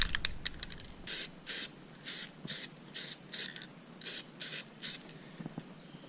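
Short repeated bursts of spray paint coat repair areas on a C3 Corvette's cracked interior panel, about eight even hisses in a steady rhythm, close and fairly quiet, with no talking.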